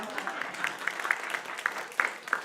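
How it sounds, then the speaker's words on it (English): A congregation at a Sunday service claps for a performer, a brief, moderately loud patter of many hands with a few sharper individual claps standing out. "Can we give her a round of applause?"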